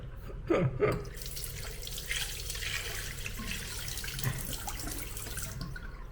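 Water runs steadily from a hotel bathroom tap into a sink, a continuous close splashing stream with a few brief clinks early on, no talking.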